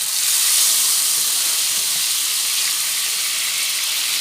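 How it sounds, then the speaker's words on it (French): Lemon juice hits a hot pan of caramelized potatoes and sets off a loud, steady, hissing sizzle of steam that holds evenly throughout with no talk. "Je vais maintenant déglacer avec du jus de citron"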